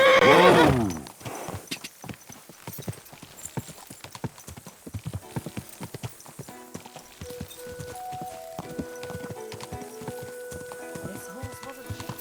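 Horse in Kingdom Come: Deliverance II, opening with a loud close whinny followed by steady clip-clop hooves walking throughout, with scattered game sounds and faint tones layered in later.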